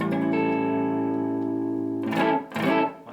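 Electric guitar with its pickups set about 2.4 mm from the strings, sounding a sustained, effect-laden chord that rings steadily for two seconds before two short, brighter strums cut in, played alone.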